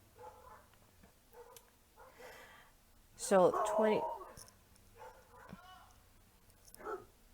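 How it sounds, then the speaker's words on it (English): Dogs barking in the background of an indoor room, a burst of several sharp barks in the middle with fainter yips around it, under and between a person talking. "I apologize for the dogs in the background."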